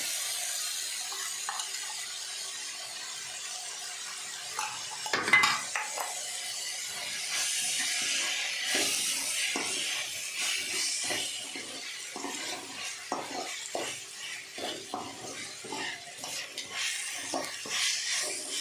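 Chicken curry masala with pepper, cumin and ginger-garlic paste sautés in a pan: soft sizzling under repeated spoon scrapes and stirring clinks, with one sharper knock of utensil on pan.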